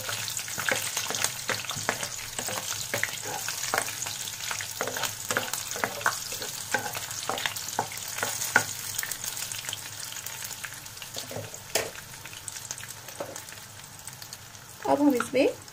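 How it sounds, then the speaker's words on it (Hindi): Broken bay leaves, cinnamon and cardamom fry in hot oil for aloo keema masala, a constant close sizzle with scattered stirring clicks and a brief scrape near the end. "तेज पत्ते, दालचीनी और इलायची को हमने थोड़ा सा तोड़ लिया है, कुछ सेकंड हम भून लेंगे पहले।"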